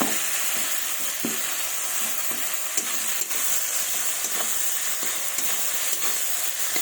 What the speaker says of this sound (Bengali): এবার মাছের মাথাটা এর মধ্যে দিয়ে দেবো। দিয়ে ভালোভাবে এটাকে নেড়ে নেব।